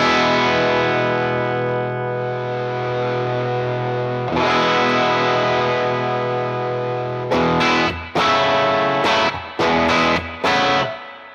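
Guitar chord strummed through an effects pedal with the clean signal blended in, a thick sustained distorted chord ringing for several seconds, then restruck and cut off in quick stabs near the end.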